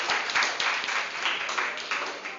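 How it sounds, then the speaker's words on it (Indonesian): A class of students claps together in a classroom, a moderately loud, dense patter of hands lasting a couple of seconds with a slight swell and fade. "Tepuk tangan untuk kalian semua."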